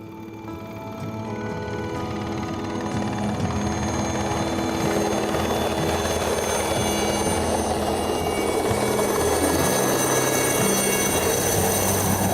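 Helicopter rotor and engine noise close by at a mountain base camp near Carstensz Pyramid, a loud, steady thudding drone with whine that builds over the first seconds and holds without letup.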